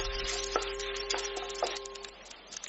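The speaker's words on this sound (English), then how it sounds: "After stir-frying the sausage, add the leftover rice and ketchup" Leftover rice, sausage and ketchup are stirred in a pan, giving a steady soft sizzle broken by three sharp scraping clacks of a utensil against the pan.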